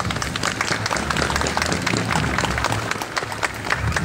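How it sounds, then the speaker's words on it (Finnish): Steady applause from an outdoor May Day crowd at Karkkila, dense clapping holding evenly for several seconds with no talk over it. "Kokeillaan taputuksia Taunolla."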